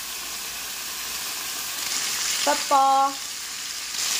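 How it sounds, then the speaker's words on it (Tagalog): Oil and oyster sauce sizzle in a pan during a stir-fry, a constant close hiss that swells slightly as it is stirred, with a short spoken word breaking in briefly. "So, stir fry lang natin."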